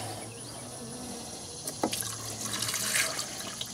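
Sugar water is poured into a beehive feeder, a close liquid splashing and gurgling that builds toward the end over a low steady hum, with no talking.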